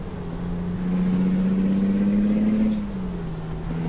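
A heavy truck in American Truck Simulator holds a steady engine drone that rises in pitch, then drops as the driver clutches and shifts into third gear, loud and close with no talk.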